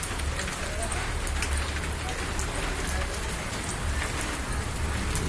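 Steady rain patters on surfaces during a May spring storm in Meerut, western Uttar Pradesh, a dense continuous hiss close by with no letup, under a low rumble.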